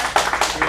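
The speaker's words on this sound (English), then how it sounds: "Give him one more round of applause." A short burst of audience clapping for child actors at an acting studio showcase in Phoenix, several hands patting quickly and close by, lasting under a second.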